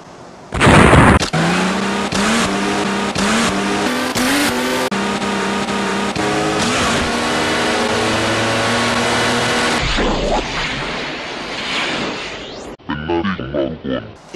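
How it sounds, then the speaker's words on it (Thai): A car engine revs and accelerates hard while speeding past 90 km/h on a road in Thailand, its tone sweeping upward through the gears loud and close, with voices talking over it. "การขับรถเร็วเกินกว่า 90กิโลเมตรต่อชั่วโมง"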